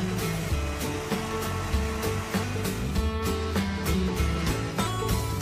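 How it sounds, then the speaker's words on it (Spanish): A blender whirs steadily as it blends cheese ice cream ingredients, a continuous motor drone with slight wavering in pitch that holds at a moderate level throughout, no voices. "Ahora terminamos de licuar todos los ingredientes."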